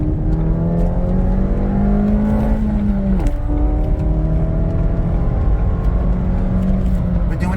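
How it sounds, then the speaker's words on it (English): Ford Fiesta ST with 115k miles cruising on a highway at speed, a steady loud engine drone and road roar filling the cabin throughout, with a brief dip in engine tone partway through and a voice talking over it. "It's a little bit loud driving in the car."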